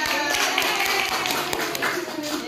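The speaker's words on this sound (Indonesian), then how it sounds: "Tepuk tangan buat Mbak Firsa." A classroom of students applauds during a microteaching lesson in Islamic religious education, a steady patter of many hands clapping at moderate volume, sustained throughout with some faint voices underneath.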